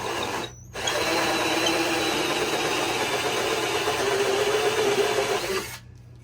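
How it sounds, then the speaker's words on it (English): A steady, loud power-drill whine grinds continuously for about five seconds after a brief start, then cuts off abruptly, as a hole saw bores through wood for a bird feeder. "So if you don't have a drill press, I suggest using a hole saw."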